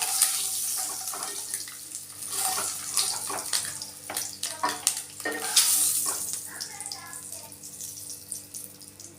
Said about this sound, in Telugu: ఇలా ఇలా ఒక మంచి కలర్ వచ్చే వరకు వేయించుకోండి